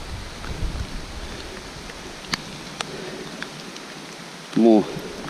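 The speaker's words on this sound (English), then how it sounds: "It's raining pretty hard." Hard rain falling in the woods, a steady hiss of drops with a few sharp taps standing out and a brief burst of sound near the end.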